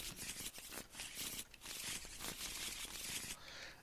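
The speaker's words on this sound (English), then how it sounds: "going to shuffle." A deck of Star Wars: Destiny cards is shuffled up close, giving repeated riffling, flicking bursts in a quick, uneven rhythm, fairly quiet and without talk.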